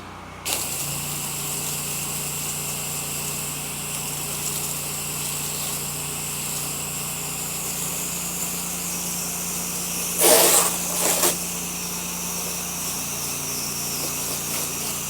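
A pressure washer engine runs at a steady idle drone with a high whine while rinsing, broken near the middle by a short loud hiss of spray, with no talk.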